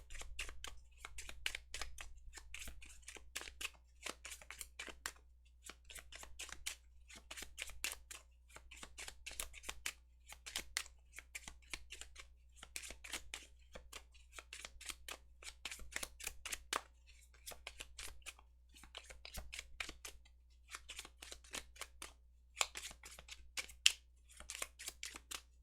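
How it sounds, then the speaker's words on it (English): Tarot cards being shuffled over and over, a long run of quick papery riffles and flutters in dense bursts with brief pauses, close and fairly quiet, no talking. "Jeez, so much shuffling."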